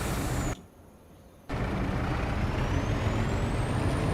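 A sharp hiss of truck air brakes in Farming Simulator 25 cuts in over a steady engine rumble. The hiss drops out for about a second and then resumes.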